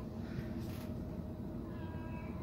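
A pet cat meows softly, a faint, brief call over a steady low indoor hum, with no one talking.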